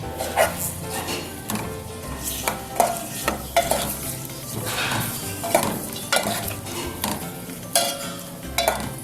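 Chopped onions sizzle and fry in a pan until softening while a utensil stirs and scrapes repeatedly, with occasional clinks of metal against the pan; no talking.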